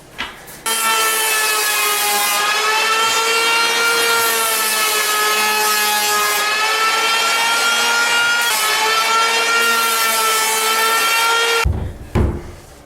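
Hand planing the cut edge of a Duraflex bathtub surround panel, one long continuous rasping stroke with a steady pitch that holds for about eleven seconds, loud and close, then stops.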